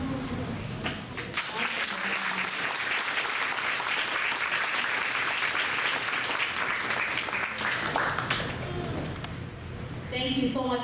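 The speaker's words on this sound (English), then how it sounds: "Let's give them a little big round of applause." Sustained applause fills a room at a school board regular action meeting, a crowd clapping steadily for about ten seconds before it thins out near the end.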